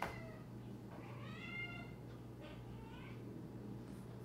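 Cats meow several times indoors, moderately close, with rising and falling calls over a steady low background hum.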